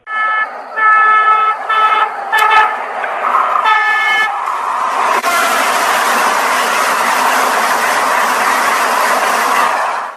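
A loud, close horn sounds in a series of repeated toots, followed by a steady, dense roar of a fast train passing: the Vande Bharat Express, also called Train 18.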